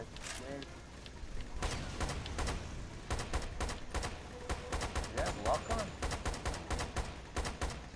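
Shotgun fire in the video game Lost Planet 2: a rapid series of sharp blasts in quick succession over a busy game soundscape, moderately loud, with a faint background voice.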